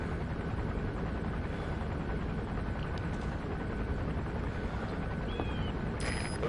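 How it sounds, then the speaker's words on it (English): In the video game Metal Gear Solid V, an arms dealer's patrol helicopter drones on as a steady, dense rotor and engine roar that fills the whole stretch without a break. "Looks like the arms dealer's chopper is gonna patrol for the security forces."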